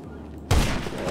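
A single loud sniper rifle gunshot in GTA V, one sharp boom after a quiet moment and then a decaying echo, no talk.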